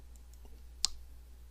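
A single crisp click of a computer mouse button being right-clicked stands out sharply near the middle, preceded by a couple of faint softer clicks in a quiet room with low hum.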